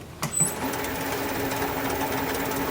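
A wood lathe spins a maple blank while a 3/8 inch bowl gouge cuts, giving a steady, even whirring hum with a faint tonal drone, after a brief sharp scrape at the start.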